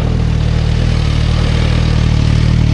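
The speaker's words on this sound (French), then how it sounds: "je vais faire tout de suite chanter un peu le moteur" A Suzuki GSX-S 1000 GT motorcycle with its stock exhaust runs loud and close, the engine holding a steady, throbbing rev with a strong low rumble and no pause.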